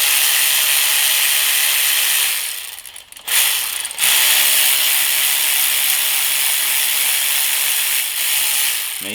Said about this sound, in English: Use my ratchet to get it off to finish the rest of the way.